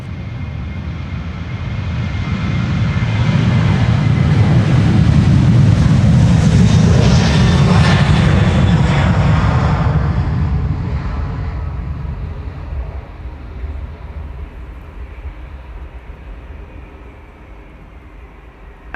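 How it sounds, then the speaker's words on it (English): A Delta airliner roars down Schiphol's Polderbaan runway on departure, a deep rumbling jet swell that builds to a loud peak and then fades slowly into the distance. "Delta flight 135 to Detroit is what you saw."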